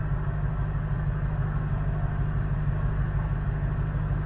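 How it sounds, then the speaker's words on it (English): A truck engine idles while the vehicle reverses, giving a steady, even low rumble that holds throughout with no voices over it. "The truck's going backwards."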